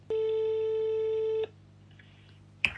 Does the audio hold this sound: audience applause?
no